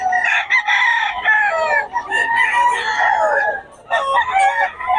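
Fighting cocks crow and cluck in a seller's pen at Bocaue, several roosters calling loudly and close with overlapping, continuous crows and a brief pause near the end.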